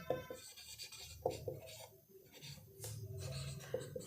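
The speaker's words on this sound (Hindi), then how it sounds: "तो यहाँ पे मैं एक एग्जाम्पल लिखती हूँ 2 वेरिएबल्स का" Writing an example linear equation on a board during a Class 9 maths lesson: soft, scratchy strokes in short bursts with brief pauses, close and fairly quiet, no voices.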